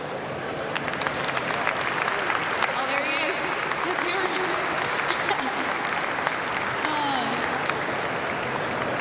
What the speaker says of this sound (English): if we could just take a quick second here to thank them with a round of applause, that would be great.